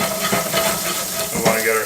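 Shallots sweat in a hot pan with a steady, close sizzle and soft crackle, a continuous frying hiss with a few brief stirring scrapes.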